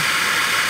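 A steady, loud roaring hiss like rushing water and air through a jet water pump with its stop valve loosened, continuous and broadband with no pauses.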